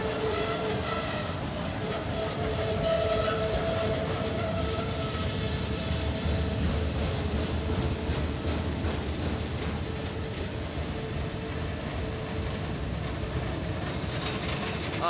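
A northbound CSX freight train of graffiti-covered auto rack cars rolls past a railroad crossing in Lima, a loud, sustained rumble with rhythmic wheel clatter and metallic squeals for the whole stretch.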